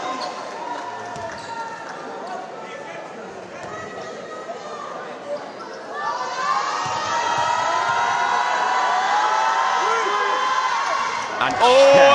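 Gymnasium crowd at a varsity basketball match, Chester men's firsts against Salford men's firsts, shouting at a free throw shooter; a steady murmur rises into a loud sustained roar of mixed voices, with a commentator talking over it.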